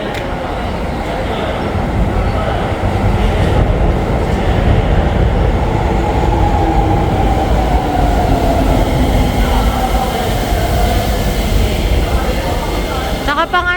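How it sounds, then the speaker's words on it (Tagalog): Local commuter train in Tokyo running, a loud continuous rumble of wheels on rails with rhythmic clatter and rising whine inside the car, steady throughout. "Local train ata yan."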